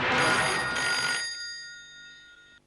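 A telephone rings with a bright, steady electronic tone that sounds loud at first and then fades out over a couple of seconds, with no talking.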